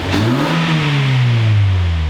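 A car engine revs up and falls back with the muffler valve open, its intake roaring loudly and close throughout, the pitch rising then easing in one sustained pull.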